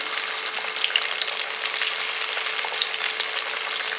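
Raw banana slices fry in a pan with a steady, loud oil sizzle and faint crackles throughout, close up with no talking.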